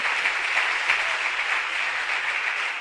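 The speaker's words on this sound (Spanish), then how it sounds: "Dale ese aplauso al Señor, que Él es bueno," A church congregation applauds during a worship service, producing a steady, dense wash of clapping that holds at an even level throughout, with no voices standing out.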